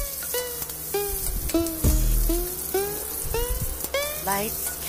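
Chopped onion sizzles steadily in a hot frying pan for tumbong soup, a broad hiss running throughout, while a voice talks over it.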